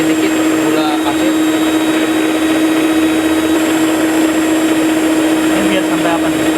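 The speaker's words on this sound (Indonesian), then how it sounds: "Kita mixer perlahan dulu ya." An electric hand mixer runs at low speed, whipping egg whites as granulated sugar is added a little at a time, giving a steady, continuous motor whir throughout with a voice talking over it.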